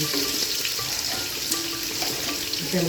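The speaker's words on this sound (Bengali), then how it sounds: "জল দিয়ে দিচ্ছি" Water poured into a pan of frying rohu fish curry with potatoes and pointed gourd, a steady splashing, bubbling hiss close by that fills the whole moment without any voices.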